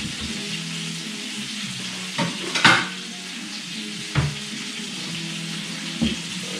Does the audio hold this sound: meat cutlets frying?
yes